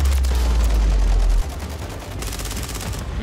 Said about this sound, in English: We got the fastest killing MW2 SMG here